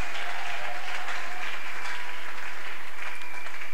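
A church congregation at a religious convention breaks into loud, sustained applause and cheering, a dense wash of clapping that fills the space throughout.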